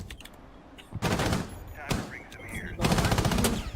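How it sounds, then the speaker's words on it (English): Rapid gunfire bursts in a Rainbow Six Siege tournament match, loud clustered shots in two or three bursts with game effects between them and a commentator talking over the action. "Shoot at that ballistic shield of Montagna, but he will not be able to damage him"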